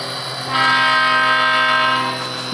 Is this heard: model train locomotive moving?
yes